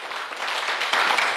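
A congregation in a church claps together in a short, steady burst of applause lasting under two seconds, moderately loud and without talking over it.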